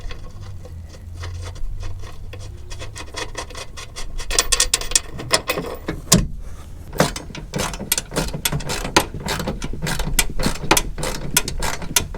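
A hand ratchet clicks in rapid bursts while tightening the bolts of a rear strut bar on a Toyota Yaris, close up, with short pauses between runs of sharp ticking and no talk.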